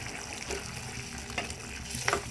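Garlic pickle stirred in a pan over a low flame, a steady sizzling hiss with a few soft scrapes of the spoon, close by and without talk.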